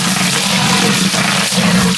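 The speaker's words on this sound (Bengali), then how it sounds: "সসপ্যান গরম হয়ে গেছে, তেলটা দিয়ে দিলাম" Oil hitting a hot saucepan before beef tehari meat and spices go in, giving a loud, steady, broadband sizzle and roar that holds without a break from start to finish.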